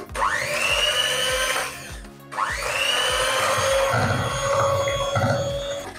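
An electric mixer whirs loudly and steadily, blending cake batter with pineapple. It runs in two long bursts split by a brief stop, each burst rising in pitch as the motor spins up.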